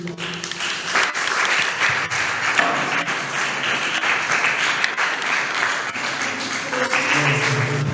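An audience at a student parliament plenary session applauds steadily and fairly loudly, with continuous clapping that fills the room for several seconds.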